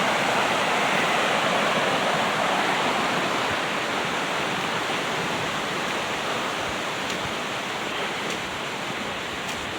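A jungle river in Jones Gap flows steadily, its broad rushing hiss continuous and loud like a small waterfall, with no talking over it.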